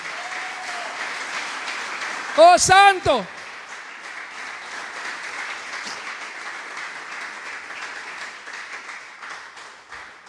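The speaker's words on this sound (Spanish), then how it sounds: "dale un aplauso a Cristo" Church congregation applauding: a broad, even wash of many hands clapping fills the room, with a voice briefly exclaiming over it early on before the clapping carries on alone.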